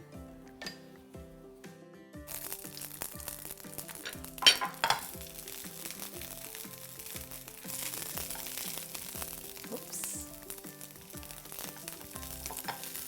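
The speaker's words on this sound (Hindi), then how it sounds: "कॉर्न को मैंने पहले से बॉईल करके रखा है, उसे हम थोड़ा सा सॉटे कर देंगे" Boiled corn is sautéed in oil in a pan, giving a steady, close sizzle with frequent light clinks and scrapes of stirring throughout.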